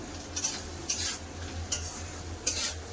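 Boiled potatoes with turmeric, cumin and salt stirred in a pan, four sharp scraping strokes at a slow, even pace, close and clear over a low hum.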